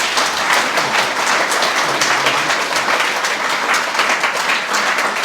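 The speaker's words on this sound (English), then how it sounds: "Can we give Noel another round of applause?" A small audience at a local history talk gives a steady, sustained round of applause, dense clapping filling the room at close range with no speech over it.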